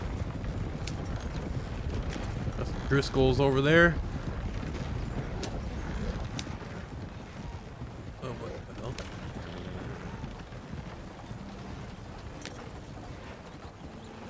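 Four horses pulling a carriage in Red Dead Redemption 2 make steady clip-clop hoofbeats throughout, with a brief whinny-like burst near the start and someone talking over them.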